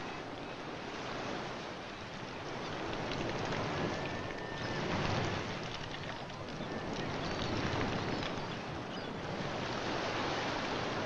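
Tide washing over a rock pool shore packed with goose barnacles, a continuous rushing wash of surf that swells and eases in slow surges, close and fairly loud, with some wind noise.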